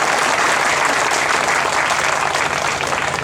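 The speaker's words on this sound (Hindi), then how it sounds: "ताली बजाइए।" Steady applause from an audience at a public speech in a village gathering, dense and continuous throughout, no voices heard above it.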